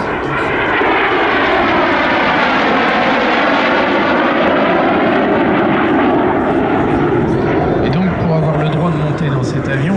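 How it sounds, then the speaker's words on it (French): Jet aircraft engine roar from an F-86 Sabre at an airshow, a loud continuous broad rush with shifting tone that holds steady throughout, with a lower droning hum joining near the end. "on le verra dans quelques minutes à travers le F-86 Sabre"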